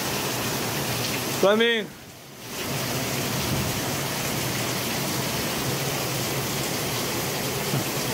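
Heavy rain pours steadily through a summer storm as a dense, even hiss, loud and close. Someone speaks briefly early on over the downpour.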